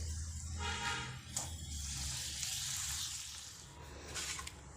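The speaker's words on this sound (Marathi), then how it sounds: "आता अशा प्रकारे मी तळून घेते" Puris deep-fry in hot oil, a steady loud sizzle and bubbling hiss that runs through the whole stretch with small surges as the dough puffs.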